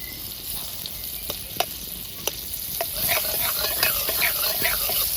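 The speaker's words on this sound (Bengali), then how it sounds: "বাটারটা ভালোভাবে গলিয়ে নিয়েছি" Butter melts in a hot wok with a soft, steady sizzle, broken by a few sharp clicks of a utensil, then swelling into a busier bubbling crackle toward the end; no one speaks.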